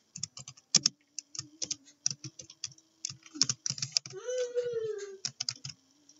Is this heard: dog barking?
no